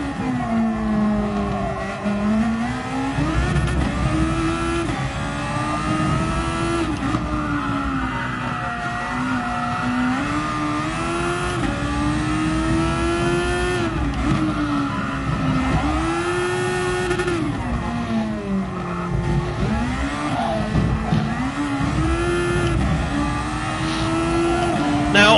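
A race car in a racing video game runs over sausage kerbs, its engine droning loud and continuous with rising and falling revs as the car bounces, with no talk over it.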